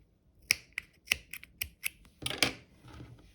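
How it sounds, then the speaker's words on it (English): Scissors snipping black yarn on a handmade Pop-Tart plush toy, a series of crisp close clicks and snips spaced irregularly, with a denser cluster of cuts near the end. "and then we can snip it off."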